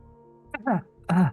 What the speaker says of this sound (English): can you cough for a sec?